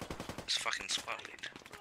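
Rapid automatic gunfire in a video game, loud bursts of shots over the middle of the clip, with players talking throughout.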